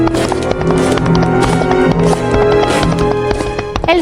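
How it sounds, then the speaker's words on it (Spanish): Clip-clopping hooves of several horses of a king and his knights riding in procession, a steady dense rhythm of hoofbeats under a continuous backdrop of music. "El sonido de los cascos de los caballos pronto alcanzaron los oídos de la estrella"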